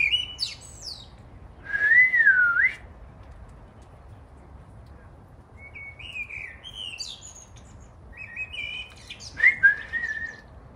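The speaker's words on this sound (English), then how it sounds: "The bird's back." An outdoor bird calls with several short chirps and warbling whistles in separate bursts, heard close over a low, constant background rumble.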